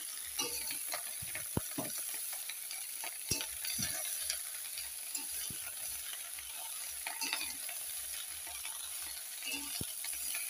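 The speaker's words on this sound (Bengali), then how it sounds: "শুটকি মাছটা দিয়ে তেল দিয়ে শুটকি মাছটা ভাজা ভাজা করে এর মধ্যে 5 ফোড়ন আর পেঁয়াজ আর কাঁচা লঙ্কা দিয়ে দিয়েছি" Dried fish fries in oil with onion and green chili, a quiet, steady sizzle broken by scattered clicks and scrapes of stirring, close and without talk.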